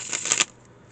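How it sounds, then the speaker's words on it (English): Tarot cards shuffled in a brief, close riffling burst lasting under half a second, then quiet. "Okay, I'm gonna shuffle these real quick."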